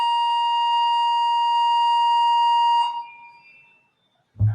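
A fire alarm in a high-end hotel sounds a loud, steady electronic tone for almost three seconds, then cuts off and fades, followed by a brief low thump.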